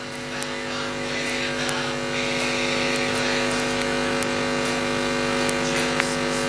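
Street stock race cars roar around Gympie Speedway during a final, their engines blending into a continuous loud drone, with a commentator talking over the noise.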